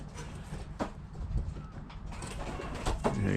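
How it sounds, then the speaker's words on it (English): Soft pigeon coos sound among birds near a garden seed feeder, with faint creaks and background rustle. "A cracking wee pigeon that."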